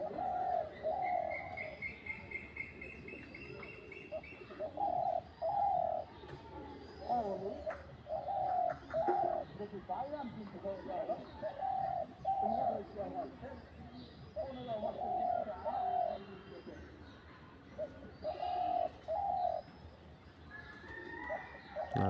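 A bird calls again and again in short, evenly spaced bursts of cooing notes, close and clear over a quiet outdoor background with no talking.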